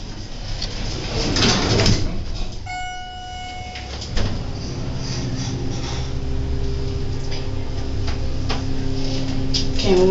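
A glass Schindler elevator's door opens and closes, with mechanical sliding and rumbling from the door mechanism, a short electronic tone partway through, and a thud as the door moves, over steady machine noise.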